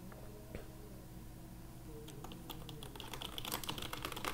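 Someone types on a computer keyboard, with quiet scattered key clicks that build into a faster, denser run of taps, heard alone in a quiet room.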